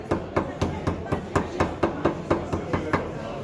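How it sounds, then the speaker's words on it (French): Hammers pound wet papyrus strips in an even, steady rhythm, about a dozen sharp thuds in quick succession, close and fairly loud with no talk over them. "Pour enlever d'eau, on utilise les marteaux comme ça."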